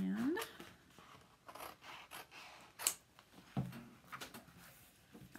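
Scissors snip through a strip of paper while making a decorative gift box, with a few short, close cuts and rustling handling of the paper; no speech.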